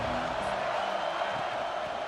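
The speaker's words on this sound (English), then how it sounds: "This crowd ready to make its presence known." Steady stadium crowd roar in the video game NCAA Football 26, a dense, continuous wash of cheering voices at constant loudness throughout, with no distinct individual shouts standing out.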